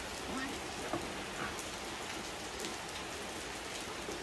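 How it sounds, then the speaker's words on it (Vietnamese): Heavy rain pours steadily during a Thai rambutan harvest at an orchard in Nghĩa Đàn, Nghệ An, a dense, close, even hiss with a few sharper drops standing out. "Trời đang mưa rất là lớn mọi người nhé."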